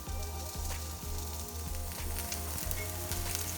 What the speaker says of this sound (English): we'll just try frying those up and we'll see what happens